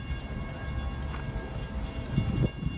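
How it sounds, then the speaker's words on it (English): A train passes within earshot of a lecture, a steady, continuous low rumble with faint rail clatter that holds throughout at moderate loudness, with no talking over it. "there's a train going by"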